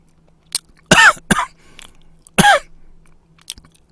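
A man coughs several times in short, harsh bursts, close and loud, with two stronger coughs separated by quieter throat sounds and brief pauses of near silence.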